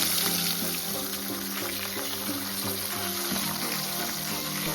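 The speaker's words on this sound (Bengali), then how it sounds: "সর্ষের তেল গরম হলে একে একে কাতলা মাছগুলো দিয়ে দেব।" Catla fish pieces frying in hot mustard oil give a steady, loud sizzle with dense crackling spatter that runs the whole way through, with no talk.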